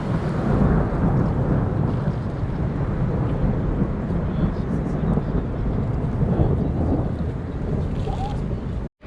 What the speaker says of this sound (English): There have been some bolts of lightning and really loud thunder